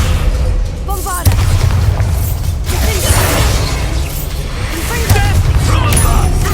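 Bombarda blasting spell explosion in the video game Hogwarts Legacy, a heavy booming blast with rumbling debris and cracking, loud and sustained, with a voice speaking over it.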